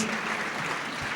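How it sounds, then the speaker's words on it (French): A crowd at a sports awards ceremony claps in a steady, even wash for about a second, with no distinct voices standing out. "On applaudit très fort Louis Nicolin, Roland Courbis."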